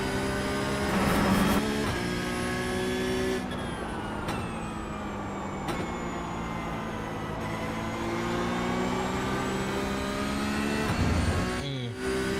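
A Toyota GR86 engine under heavy throttle at Okayama in a racing game howls steadily and loudly, its pitch climbing and dropping through gear shifts across the lap, with no one talking.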